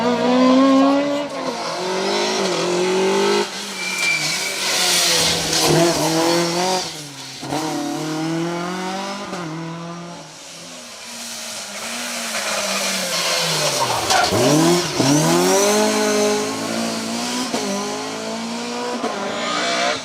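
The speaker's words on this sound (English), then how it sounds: "Mid-2000s World Rally cars with all like historic rally festivals." Mid-2000s World Rally cars on a stage of the Hills Ford Stages Rally, engines loud and close, revving hard with rising and falling pitch through gear changes as they blast past, with no talking.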